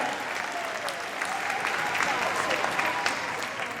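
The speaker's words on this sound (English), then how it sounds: "give them a big round of applause to leave the arena" A large crowd in the Crufts 2019 arena applauds the Good Citizen Dog Scheme display, a dense, sustained wash of clapping that holds steady throughout.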